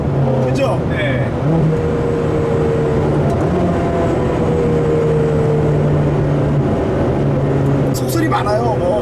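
A Ferrari F430 engine pulls hard and continuously, its loud steady drone rising as it shifts through gears under throttle, with people talking over it throughout.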